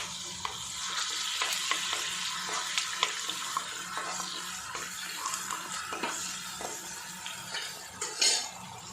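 Sliced onion and ginger-garlic paste fry in hot oil in a pan, a close, busy sizzle broken by repeated scrapes and clinks of stirring, with no voices.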